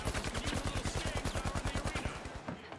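Rapid automatic gunfire in the video game The Finals, a close, loud, evenly spaced burst of about two dozen shots that stops abruptly.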